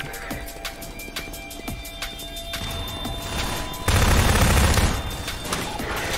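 Gunfire in the virtual reality shooter Half-Life 2 VR: a rapid train of evenly spaced shots under a steady background hum, then a louder, denser burst of fire with deep rumble near the end.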